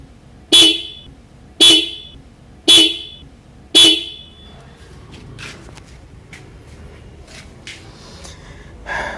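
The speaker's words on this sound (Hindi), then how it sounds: "अभी हमने दोनों हॉर्न के वायरिंग को लगा दिया है और अब मैं आपको साउंड सुनाता हूँ।" Four loud, sharp blasts from a pair of old motorcycle horns wired together, in an even rhythm, each short and bright, followed by quieter rustling and faint clicks.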